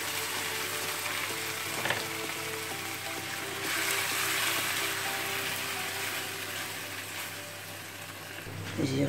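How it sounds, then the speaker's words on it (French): Gilthead sea bream sizzling and frying steadily in a pan, a continuous close crackle with a brief clink near the start and a louder stir or shift toward the end; no speech. "Je vais la faire revenir au moins 2 minutes."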